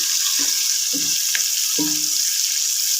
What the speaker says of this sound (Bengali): এখানে দিয়ে দেব আমি কয়েকটি কাঁচামরিচ এটা ভেজে আমি